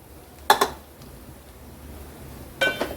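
Red pumpkin is stirred into a spiced tempering in a pan, with two sharp metallic clinks of a spoon against the pan separated by a quiet stretch.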